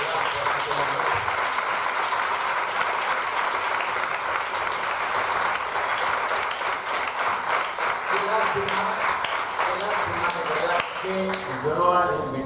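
Sustained audience applause at a round-table event, dense and even clapping from a sizeable crowd that carries on for over ten seconds before thinning at the end.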